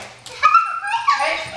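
A dog gives high, yelping whimpers and short yips in two brief bursts, close by, with people talking around it in a home setting.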